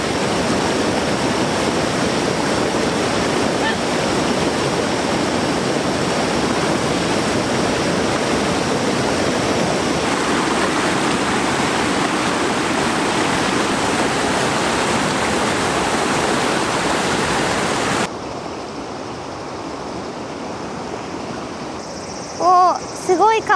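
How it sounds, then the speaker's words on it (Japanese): A fast, rushing river at a summer campsite roars loudly and steadily as a dense wash of flowing water for most of the clip, then drops to quieter background with a few brief vocal sounds near the end. "おー、すごい川の音じゃない？"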